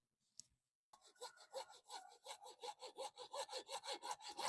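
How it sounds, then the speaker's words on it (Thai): A hacksaw rasps back and forth through a water pipe in quick, regular strokes after a short tap, close and clear with no talking. "เครื่องมือที่ใช้ในการตัดท่อ ก็จะใช้เป็นเลื่อยตัดเหล็กนะครับ"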